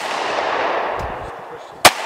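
A single sharp gunshot cracks near the end, loud and close, following the fading echo of an earlier shot outdoors.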